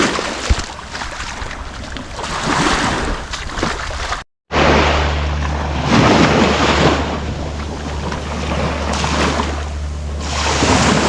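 Ocean waves washing in at the rocky jetties of St. Andrews State Park in Panama City, Florida, a continuous loud roar of surf mixed with gusting wind noise.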